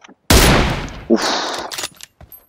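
Gunfire erupts in PUBG on the Erangel map: a loud, close burst of shots fills the opening, followed by a further sharp report and trailing rattles as the exchange fades.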